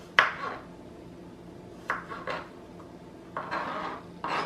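A knife cuts thin half-moon slices on a cutting board while preparing aguachile shrimp, a few separate soft thuds and scraping taps spaced out at close range.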